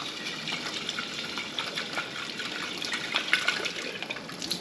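Running water rinsing alfalfa and broccoli sprout seeds, a steady faint splashing stream with small irregular spatters, no voices.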